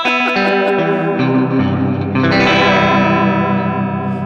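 A Keeley Caverns V2 delay/reverb pedal colors a distorted electric guitar, with sustained chords that bloom into a dense, shimmering wash and trail off in a long decay. No one speaks.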